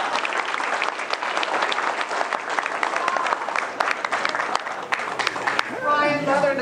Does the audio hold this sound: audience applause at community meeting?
yes